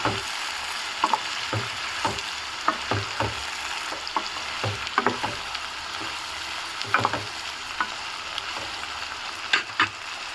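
Brinjal and tomato curry fries in a pan while a spoon stirs it, a constant close sizzle broken by scattered scraping knocks of the spoon against the pan.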